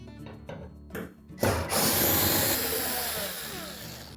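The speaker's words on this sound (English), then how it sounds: "remove the 2 screws that secure that hinge to the cabinet. They are a number 25 Torx screw" A driver turns out a number 25 Torx hinge screw on a Bosch washer cabinet, a few quiet clicks and ticks followed by a loud, sustained rattling whir of the tool.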